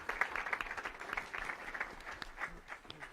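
An audience claps for the candidates at a gubernatorial forum in Fresno. The applause is steady, moderate and sustained throughout, with no voices on top of it.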